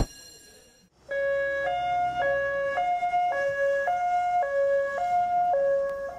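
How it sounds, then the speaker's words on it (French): A road rescue ambulance of the fire brigade speeds through a city with its siren on, a loud two-tone wail alternating steadily after a brief quieter start. "L'ambulance de secours routier fonce vers le lieu de l'accident, à plus de 100 km/h dans la ville."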